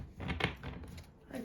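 Oracle cards shuffled by hand in a final shuffle before a reading, a short papery riffle of soft rustling taps lasting about a second, close and quiet with no voice over it.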